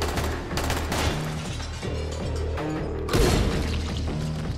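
A busy Dying Light fight with scattered gunshots and thumping impacts over a low droning background, and a heavy booming burst near the end.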